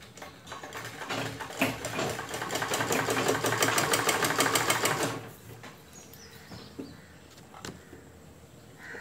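A sewing machine runs around the edges of a cushion cover with a zipper, giving a loud, steady, rapid stitching buzz for about five seconds before it cuts off into quiet room noise.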